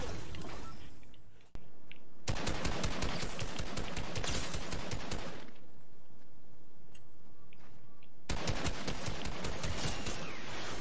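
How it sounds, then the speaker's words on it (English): Rapid bursts of video game gunfire ring out in two long volleys, with a single sharp shot before them and a quiet gap between the volleys. "I accidentally shot him, coach!"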